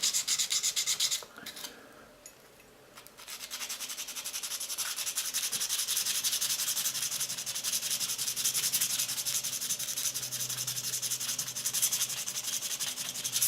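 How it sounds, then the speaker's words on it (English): Steady rhythmic rubbing of wet sandpaper on brass, close and continuous, with a short pause early on before the scraping resumes. "And then commence the sanding."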